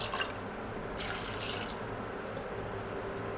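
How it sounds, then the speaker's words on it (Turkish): Water poured from a tap over dried beans and chickpeas for an aşure dessert, a steady close splashing and running flow with a brief louder gush near the start and no talk. "Üzerine geçene kadar su ilavesi yapıyorum."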